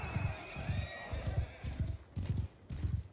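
Horse hooves pound in Mount and Blade 2 Bannerlord, a quick galloping rhythm of heavy thuds in regular clusters, close and loud, over faint background battle noise.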